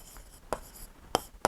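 Handwriting during a class-6 maths lesson: a few short, scratchy pen strokes spaced apart, close and quiet, with no talking.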